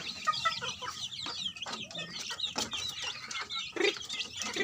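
Young chicks cluck and peep near and fairly loud as they are moved between cages on a farm, with chirps overlapping in a busy, continuous chatter and a few louder squawks.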